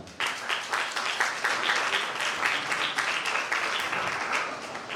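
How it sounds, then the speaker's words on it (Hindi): A church congregation at a holiness and healing meeting breaks into loud, sustained applause, with many hands clapping in a dense, rhythmic wash that holds for several seconds. "जोरदार तालियां"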